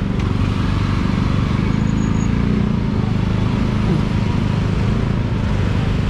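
Congested traffic on a road in Bali: a continuous dense wash of car and motorbike engines idling and creeping nearby, steady and loud throughout.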